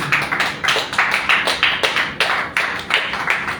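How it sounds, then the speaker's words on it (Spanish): A congregation at a Pentecostal church service claps in a fast, even rhythm, a steady run of sharp claps going on throughout, close and fairly loud. "Denle un fuerte aplauso a Cristo Jesús"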